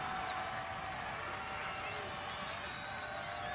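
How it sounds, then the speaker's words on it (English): A basketball arena crowd at a men's college game in overtime, a steady roar of cheering and scattered applause throughout, loud and sustained with a faint announcer voice beneath. "Crowd coming to life."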